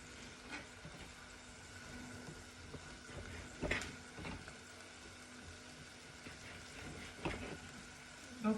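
Onion frying in oil in a pan on a small portable stove, a faint steady sizzle with occasional soft clinks and stirring knocks, no talking.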